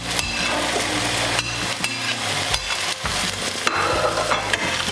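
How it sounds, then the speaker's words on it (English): Zucchini, peppers and onions stir-fry in a pan with a steady, close sizzle, broken by repeated scrapes and knocks of a utensil against the pan as the vegetables are tossed. "right now we'll be introducing our stir-fried peppers with the onions"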